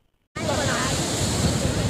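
Ocean surf at Velankanni beach bursts in suddenly and holds as a loud, close, continuous wash of breaking waves mixed with wind buffeting the microphone.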